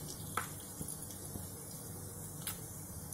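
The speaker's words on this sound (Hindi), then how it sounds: "इसे फ्राई कर लेते हैं पहले।" Asafoetida, cumin, cardamom and whole red chilies frying in hot oil, giving a soft continuous sizzle with a few faint clinks of a spoon against the pan.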